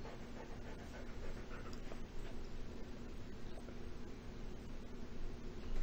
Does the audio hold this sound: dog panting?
yes